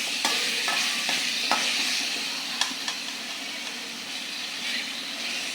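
Spice masala sizzles and fries steadily in a pan while being stirred, with occasional scraping clicks over a continuous close hiss for the whole stretch.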